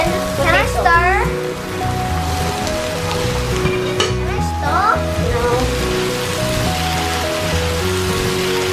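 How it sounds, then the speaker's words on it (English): Steady hissing sizzle of onions frying in a pan, continuous and close, with clattering and a few high squeaks over it. "can you hear the sizzling?"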